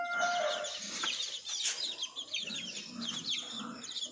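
Chickens cluck and call continuously in a pen, with busy overlapping bird sounds close by and a rooster-like call mixed in.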